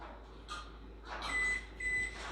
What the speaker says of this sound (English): I'm gonna put exactly 15 minutes on the timer.